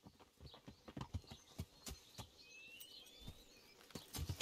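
Horse hooves clip-clop at a walking pace in the medieval game Kingdom Come, a quiet, uneven series of distinct thuds with faint birdsong overhead and no talking.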